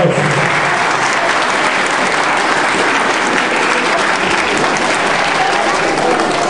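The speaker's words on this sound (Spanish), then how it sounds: "Vamos a recibirlo con fuertes y calurosos aplausos." Students at a Seventh-day Adventist school assembly in Moquegua, Peru, applaud a guest with loud, sustained, dense clapping that holds evenly throughout with no break.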